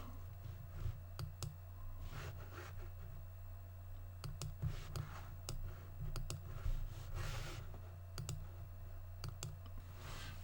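Computer mouse clicks while animating on a timeline, short sharp clicks scattered irregularly, some in quick pairs, over a steady low hum.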